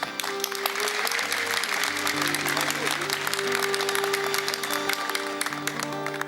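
An audience clapping energetically at a live music performance, dense continuous applause layered over sustained musical tones.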